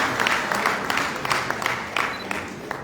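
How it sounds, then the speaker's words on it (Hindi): An audience at an awards event applauds a professor being honoured, with many hands clapping in a fairly loud, steady, close wash, punctuated by sharper individual claps and faint crowd murmur. "उनके लिए सभी जोरदार तालियां हो जाएंगे"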